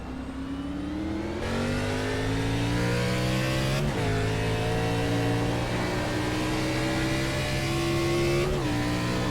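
Xfinity Series race cars at Sonoma accelerate hard out of a corner, engines revving loud and continuous with rising pitch and a couple of upshifts, no talk over the roar.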